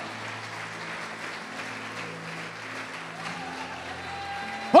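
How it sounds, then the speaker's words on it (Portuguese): A church congregation claps softly during a sermon, a faint, steady patter of applause set low under a hum, ending with a brief louder knock. "Quem crê pode aplaudir o Senhor."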